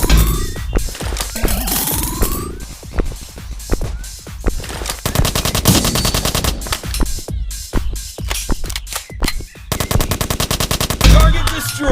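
Assault rifle fire in the multiplayer video game Dude Theft Wars rattles out in loud rapid bursts and single shots, with brief pauses between volleys.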